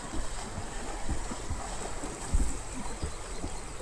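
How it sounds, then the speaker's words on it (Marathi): A flooded river in full spate gives a constant, heavy rushing roar, with low churning surges as big waves roll through close by. "नदीला एवढं पाणी सुटले की खूपच तुंबून वाहत आहे"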